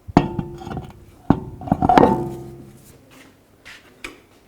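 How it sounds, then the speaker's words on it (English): Metal lug nuts clink and clatter onto a car wheel, a few sharp close knocks and rattles spaced over a few seconds in a quiet garage. "Put the lug nuts on."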